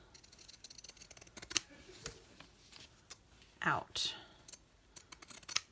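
Scissors snip through fabric while little strawberry shapes are cut out for a fabric craft. A few close, crisp cuts cluster near the middle, with a quiet voice talking and light handling noises around them.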